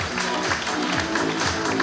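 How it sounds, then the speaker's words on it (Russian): Applause at a district social-sector board meeting, with steady clapping from a crowd in a hall that continues evenly through the whole moment over a murmur of background sound. "Аплодисменты."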